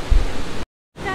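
A waterfall in Africa gives a loud, steady broadband rush that cuts out abruptly for a moment before resuming.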